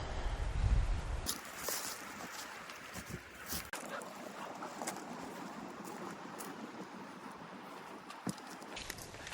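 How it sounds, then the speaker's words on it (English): Wind gusts across an exposed ridgeline in a steady, broad rushing roar, buffeting close to the microphone with occasional sharper bursts and a low rumble at the start, no one talking. "Ooh, that wind."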